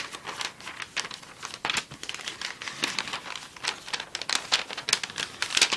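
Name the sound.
folding a sheet of paper into a paper airplane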